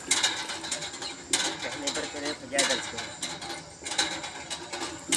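A broken hand pump at a village in Barabanki, worked in the summer heat without bringing up water, gives rhythmic metallic clanking and ratcheting strokes that repeat in bursts, close and fairly loud.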